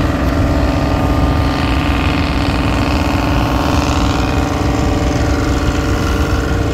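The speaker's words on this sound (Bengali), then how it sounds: "ফারহান 7-এর উইচা ইঞ্জিন প্রচুর আওয়াজ হচ্ছে" The engine of the passenger launch Farhan 7 roars loudly and continuously, a dense steady drone with mechanical rattle that fills the whole stretch without pause.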